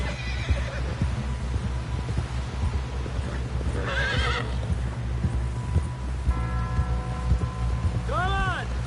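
Horse in the video game Red Dead Redemption 2 gives a whinnying neigh near the end, over hoofbeats clip-clopping and a steady low rumble of game ambience.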